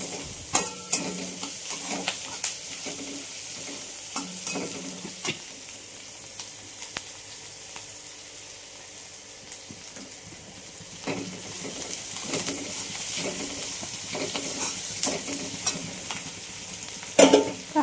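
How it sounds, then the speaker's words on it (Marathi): Onion roasting in a pan for brinjal bharit gives a steady soft sizzle, with repeated scraping taps of a spoon stirring against the pan throughout. "कांदा थोडा भाजून घेऊया."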